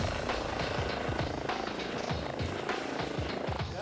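A mountain rescue helicopter on an avalanche call thunders steadily overhead, its rotor chopping in a fast, continuous rhythm with a droning engine, loud and close throughout.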